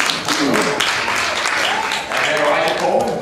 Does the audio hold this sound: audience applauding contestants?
yes